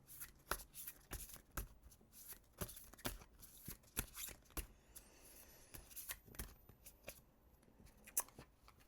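Divine Feminine Oracle cards are shuffled by hand in a steady run of soft, papery riffles and taps that carry on with no talk for about nine seconds, quiet but close.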